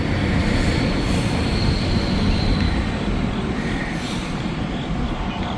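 A freight train rolls through a level crossing in Hamilton, a continuous rumble of wagons and wheels with clickety-clack joints and faint squeals, steady and fairly close throughout.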